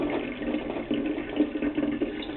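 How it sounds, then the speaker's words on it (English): Water from a tap runs steadily over hands rinsing a wool felt ball, a close, continuous splashing gush with small fluctuations as the hands move under the stream. "Take a final rinse under each tap, rinse of the hands"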